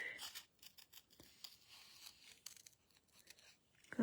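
Scissors snip through a paper greeting card in a series of short, quick crisp cuts, close and quiet, with light rustling of paper between the snips.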